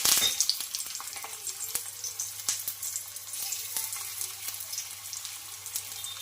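Spinach tikki shallow fry in a hot pan with a steady, close sizzle broken by small crackles and pops.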